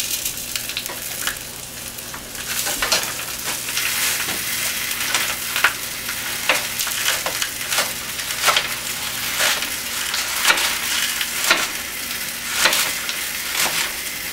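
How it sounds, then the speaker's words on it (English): Sausages brown in a frying pan with a continuous close sizzle and crackle, broken by frequent sharp scraping and stirring sounds from a utensil against the pan. "And the sausages sound good."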